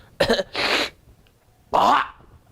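A person imitates a hawking Sticta cough: two short harsh throat-clearing bursts close together, a pause, then a third longer rasping hawk, close and alone without speech.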